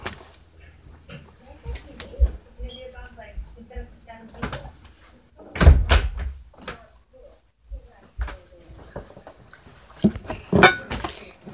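A bedroom door shut indoors, a solid thump standing out among scattered household knocks and rustles, with a person talking nearby before and after.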